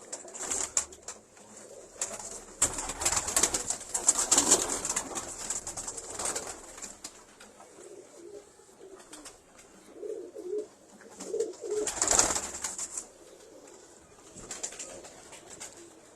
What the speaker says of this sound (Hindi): ले जी कमगर कबूतर आपको दिखाने लगे हैं उस्ताद मलिक मोहकम खोखर साहब की छत पे।